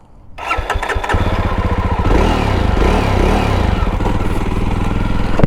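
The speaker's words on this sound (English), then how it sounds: "let's hear the exhaust sound" A Jawa Perak BS6 motorcycle engine cranks and fires up close, then settles into a loud, throaty, steady exhaust rumble.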